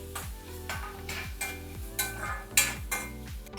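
Onions frying in hot oil in a pan for a GSB-style palak dish, a soft sizzle broken by a regular series of scraping stirs and light utensil knocks, close and fairly quiet.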